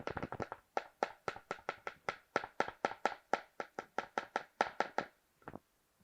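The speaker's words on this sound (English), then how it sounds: "we're just going to use our whisk to get everything squashed out" A whisk squashes a small amount of tamarind cheesecake batter with cream cheese in a bowl: about twenty close, steady, rhythmic strokes, each a short soft slap, with no talking.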